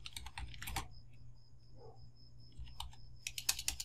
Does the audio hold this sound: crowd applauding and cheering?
no